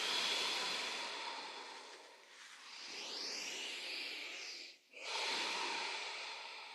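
A slow, soft exhale during a yoga exercise, a long airy breath close to the ear, fading briefly before another breath begins, with no talking.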